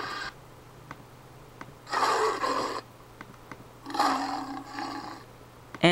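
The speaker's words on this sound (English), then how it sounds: "This is a tiger, and listen to its roar." A tiger roaring in two long, loud bursts separated by a quiet gap, close and prominent with no talking over it.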